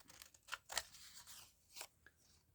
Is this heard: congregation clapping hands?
no